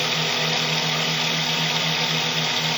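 A small 24-volt electric motor with a 6-pole, 2-coil series design runs steadily at about 2,390 RPM, giving a constant close whirring hum with no change in pitch or level throughout.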